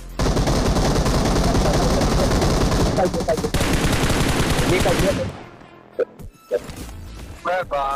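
Gunfire in the battle royale game BGMI: sustained rapid automatic bursts for about five seconds, then the shooting fades into a few isolated game sounds and effects.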